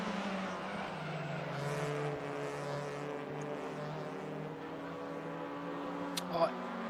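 An Audi touring race car in the RaceRoom racing game, WTCR class, drones steadily along the track with a sustained engine tone, partly under a commentator's voice.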